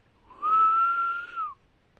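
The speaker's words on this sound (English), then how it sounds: "Heck, you can't even whistle." A single sustained whistled note, clear and close, swells in, holds for about a second and then slides slightly down before stopping, with no talk.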